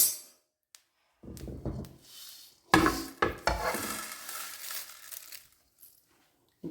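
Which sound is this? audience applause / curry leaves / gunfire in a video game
curry leaves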